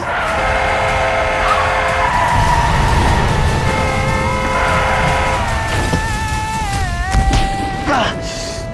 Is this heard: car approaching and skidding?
yes